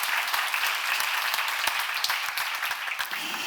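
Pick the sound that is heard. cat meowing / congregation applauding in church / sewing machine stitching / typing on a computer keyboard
congregation applauding in church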